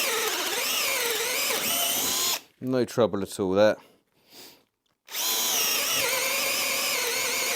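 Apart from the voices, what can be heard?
cordless drill boring into wood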